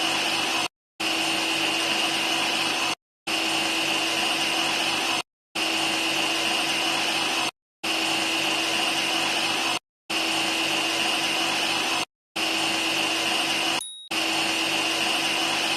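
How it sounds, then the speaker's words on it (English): Horizontal bandsaw blade cutting through a workpiece, a steady loud whirring drone broken into regular segments by short silent gaps. "Gently let the blade cut through the workpiece."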